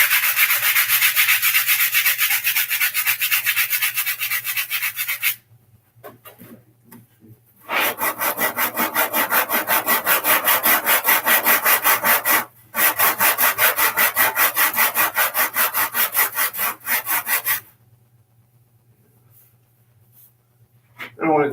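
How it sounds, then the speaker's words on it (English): Sandpaper scrubbing by hand over a burr on a MAME arcade cabinet, in steady rhythmic back-and-forth bursts separated by short pauses, close and loud, with a low mains hum underneath. "Just going to hit this with a little sandpaper, get rid of that"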